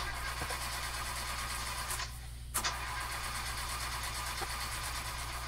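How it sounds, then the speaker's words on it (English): A sleigh engine in a Christmas video game failing to start, a mechanical engine rumble that drops out briefly, then a sharp click and sputter before the steady drone returns, with no speech. "Oh no. Why won't the sleigh start?"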